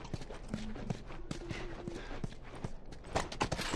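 Horse hooves clop in an uneven walking rhythm in The Last of Us Part II, close and moderately loud, with soft game ambience and a brief voice underneath.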